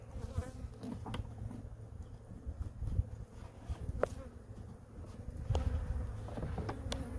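Honey bees buzz steadily around an open hive on a mild December day, a dense close drone with individual insects zipping past, plus light handling knocks and rustles of frames.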